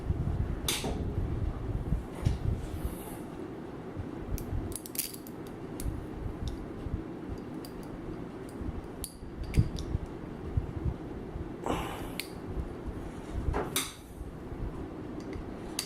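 Small metal screws being driven into the magnet assembly of an Atlas APF-15 flanged horn loudspeaker, giving a few sharp clicks and scrapes over a steady low background rattle and hum.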